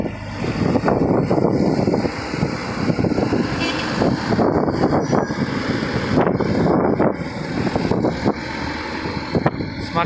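Strong night wind roars and buffets steadily with gusty low rumbling, loud and close, with no voices, at Merak port.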